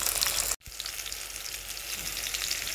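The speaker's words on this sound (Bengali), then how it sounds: "এই রসুন ভাজা তেলেতে আমি পটলগুলো ভেজে নেব" Pointed gourd (potol) fries in garlic-infused oil with a loud, close, continuous sizzle, broken briefly by a short drop-out near the start, with no talking.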